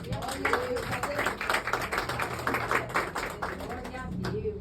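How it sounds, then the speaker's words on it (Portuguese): Church congregation applauds with steady, dense clapping that swells slightly, while voices murmur and talk underneath. "Receba o servo do Senhor com as palmas"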